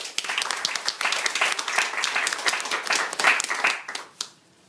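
Seminar audience breaking into sustained applause, a dense patter of many hands clapping at full strength that fades away near the end.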